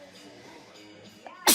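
A single abrupt, loud sneeze right at the end, close by, after a stretch of quiet indoor background with faint voice-like murmur.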